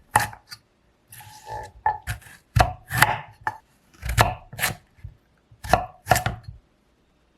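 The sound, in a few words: knife chopping two carrots into thick pieces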